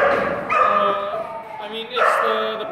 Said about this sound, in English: So from here you see these dogs are for the special purpose dogs.